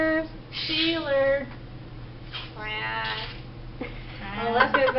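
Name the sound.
parrot imitating a cat meow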